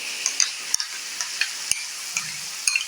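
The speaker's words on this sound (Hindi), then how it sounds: "सारा चिकन इसमें हम डालेंगे और फ्लेम जो है उसको अब हम हाई कर देंगे" Chicken for chicken makhani handi frying in spices over a high flame, a steady sizzle close up with sharp scraping clicks of a spoon stirring against the pot at irregular intervals.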